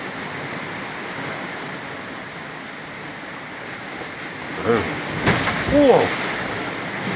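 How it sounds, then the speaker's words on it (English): Big ocean waves surge and crash near a treehouse as the tide climbs, a steady broadband roar with heavier thumps of impact toward the end; a man briefly exclaims over it. "And the waves are getting bigger."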